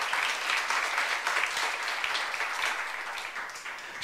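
Young-adult church congregation clapping together during a sermon, a soft, even patter of many hands at a distance, continuing steadily and swelling slightly at the end.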